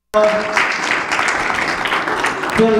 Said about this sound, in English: Give Eastern Shore a big round of applause.